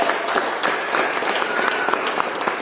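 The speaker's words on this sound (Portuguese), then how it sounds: "Pode aplaudir o Senhor." A church congregation breaks into applause after a prayer, a dense, steady burst of many clapping hands filling the room at close range for a few seconds.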